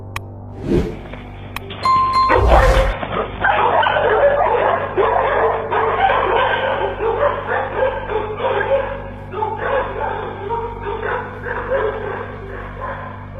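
A pack of dogs chasing something barks with fearful aggression on residential surveillance camera audio. A few early yelps give way to dense, continuous, overlapping barking that is loud and close.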